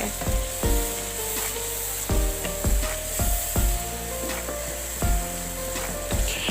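Masala frying in a karahi for koyla chicken karahi, with red and black pepper. It makes a steady close sizzle broken by regular scraping strokes of a spoon stirring the pan, and no one speaks.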